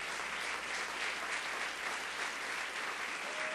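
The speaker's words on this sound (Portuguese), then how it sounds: "Aplauda o Senhor" A church congregation applauds steadily throughout, a dense, even wash of clapping from many hands filling a large room, with no voices rising above it.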